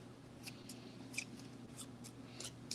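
Cards from the Pandemic Hot Zone North America board game are shuffled close by. A quiet series of brief papery riffles and slides plays over a faint room hum.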